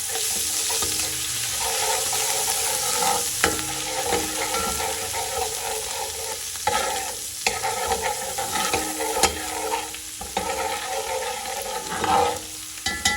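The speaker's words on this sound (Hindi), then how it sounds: "इसको थोड़ा सा हम चम्मच चला लेंगे ताकि ये थोड़ा सा सॉफ्ट हो जाए" Ginger and garlic fry in a pot for chicken pulao while a spoon stirs them, giving a steady close sizzle broken by repeated scraping, clattering strokes across the whole stretch, with no talk.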